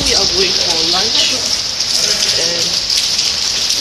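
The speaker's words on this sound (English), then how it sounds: "I'm not surprised to see rain here" Rain falls steadily in Malaysia, a loud dense hiss of drops on surfaces close by, with a voice talking over it.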